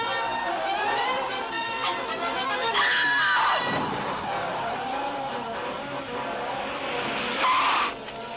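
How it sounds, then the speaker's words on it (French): A car chase, with a vehicle's engine roaring and tires squealing as it skids through turns, loud and close, rising to a sharp screech near the end. "Johnny, une voiture nous suit."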